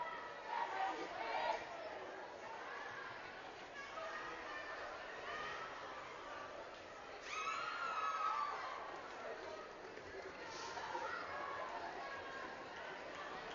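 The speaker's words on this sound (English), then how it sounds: "The Fort Collins is going to do their traditional marching cheer." A Fort Collins team performs its traditional marching cheer at a unified basketball game in a gym, with crowd chatter and voices swelling into louder cheering surges and a commentator talking over it.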